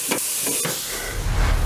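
Jalapeno sizzling on a hot Weber barbecue grill at about 550 degrees, a steady broadband hiss and crackle with a low rumble swelling at the end, heard close up.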